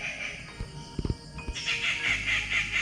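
Birds calling back and forth on a wooded hike near BIT Mesra, Ranchi: a few sharp low clucking notes, then a continuous bright chatter of calls rising at close range, with no talk.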